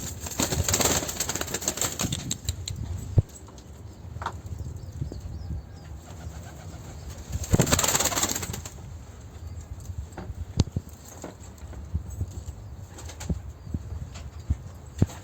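Pigeons, prized show birds, cooing softly in a loft, with occasional wing flaps and scuffling, a low steady murmur with louder bursts near the start and around the middle.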